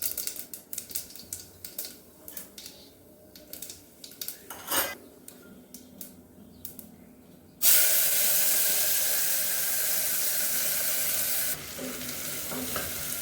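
Mustard seeds, asafoetida, turmeric and peas hit hot oil for samosa filling, first with scattered utensil clinks and stirring, then a loud, steady broadband sizzle that continues to the end.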